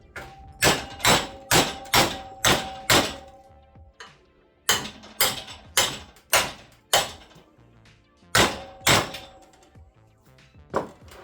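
A steel roll cage mounting foot is bent in a cheap vise with an aggressive thread, giving loud metallic bangs and clanks in bursts of rapid repeated strikes separated by short pauses.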